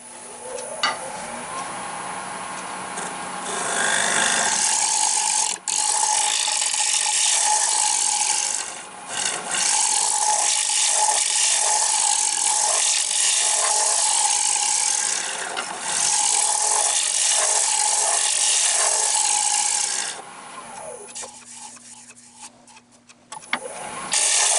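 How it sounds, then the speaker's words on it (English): A heavy-duty negative rake bowl scraper makes extremely light cuts on a wooden bowl spinning on a lathe, giving a continuous loud rasping hiss in long sustained passes that break off briefly between strokes and fade out at the end. "So I have this really heavy duty negative rake bowl scraper, which is ideal for removing any little ridges or divots in the surface"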